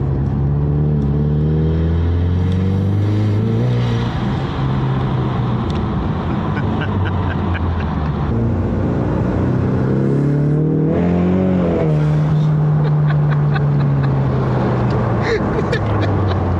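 A Ford Mustang EcoBoost drives along a road, its engine note rising and falling steadily through the gears, loud and close, with no talking.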